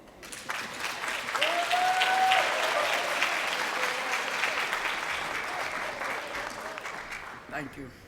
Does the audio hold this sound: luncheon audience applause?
yes